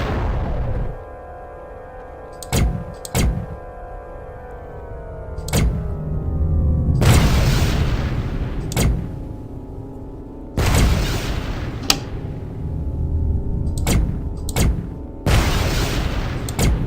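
Mines exploding one after another as they are shot in the space combat game Tachyon: The Fringe, with sharp blasts that flare up over a steady engine drone, some brief and some rumbling on for a second or two.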